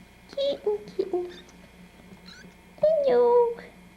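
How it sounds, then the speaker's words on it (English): Tiny kittens give several high, thin meows close by, a short burst of quick cries and then a longer drawn-out one, with soft background noise between. "Ah, I have little tiny kittens crawling on me."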